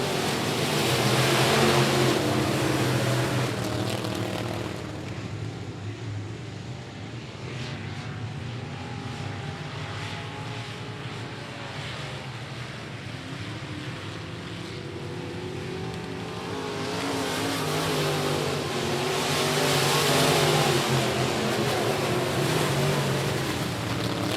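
Race cars at I-37 Speedway, a steady loud roar of engines swelling and fading as the pack passes down the front straightaway, with no talk.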